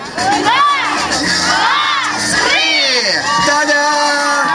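Crowd at a kids' b-boy breakdance battle at a festival shouts and cheers loudly, with high children's voices whooping in rising and falling calls that overlap continuously, close and energetic.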